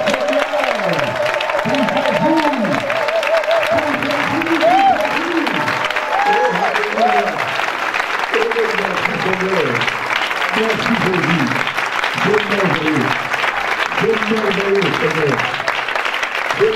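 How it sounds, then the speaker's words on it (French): Loud, sustained congregational applause at a pastors' and leaders' conference in Douala, a dense continuous roar of clapping with voices calling and talking over it throughout. "Nous pouvons faire applaudir très fort pour le Seigneur."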